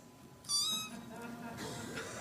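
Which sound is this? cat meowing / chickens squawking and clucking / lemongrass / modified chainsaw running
cat meowing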